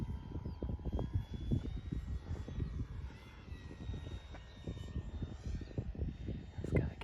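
A model aircraft making low, slow touch-and-goes into wind at a flying field, its small engine droning faintly in the distance with a gently shifting pitch under wind buffeting on the microphone.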